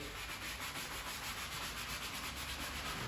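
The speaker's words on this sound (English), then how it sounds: "just grab some foam onto the brush here and just start working it onto the leather directly" A brush works foam cleaner into a cracked leather seat of a Bentley T Coupe by Mulliner Park Ward, producing a steady, close, hissing scrub that stays even and unbroken for a few seconds.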